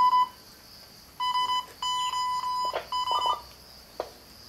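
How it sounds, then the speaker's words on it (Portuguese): An SOS distress signal comes through on an amateur radio receiver as a clear, steady beeping tone keyed on and off in short and long bursts, alone and fairly loud. "Eu tô ouvindo um SOS."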